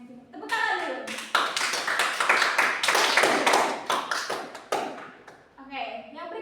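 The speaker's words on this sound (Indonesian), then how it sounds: "tepuk tangan dulu." A small group, likely a classroom of children, bursts into brisk clapping for a few seconds between spoken phrases, the claps close and fairly loud before talk resumes.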